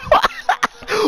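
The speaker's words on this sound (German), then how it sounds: "Erstmal einen Husterfall bekommen." A gamer playing FIFA 20 has a coughing fit: several sharp, close coughs in quick, uneven succession, loud and harsh with brief gaps between them.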